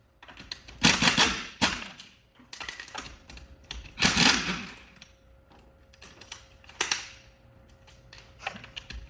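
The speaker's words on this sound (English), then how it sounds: "so I'll rip the wheel off now." A wheel being removed from a jacked-up van, heard as several loud, rattling mechanical bursts separated by pauses, fairly close and without talk.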